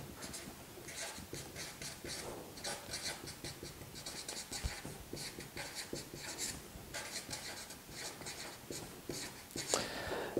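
Pen scratching steadily on paper while the approximately-equal symbol is written during a maths estimation lesson, a close, continuous rasping with short strokes and brief pauses, alone without talk.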